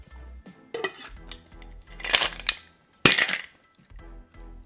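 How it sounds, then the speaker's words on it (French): A cocktail shaker packed with ice rattles and clinks in uneven bursts, hard jolts of ice knocking against metal coming close and sharp in a few strong surges with quieter gaps between them. "On va venir faire un premier shake"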